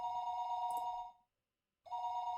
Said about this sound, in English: The sound of a phone ringing gets clearer and clearer the longer you go on sleeping.